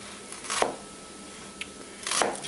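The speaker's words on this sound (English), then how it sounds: "So cut them in fairly small pieces." Knife chopping small onions into fairly small pieces on a board, a few sharp close cuts spaced out over quiet background, without any talking.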